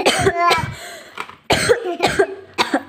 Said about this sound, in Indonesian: Aduh, aku batuk.